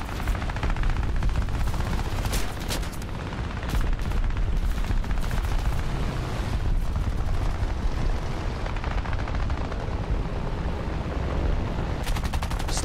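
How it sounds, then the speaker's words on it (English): Dense, heavy gunfire in War Thunder, with machine-gun chatter and cannon-like booms rolling together in a loud, nearly unbroken barrage. "Stop fucking shooting me!"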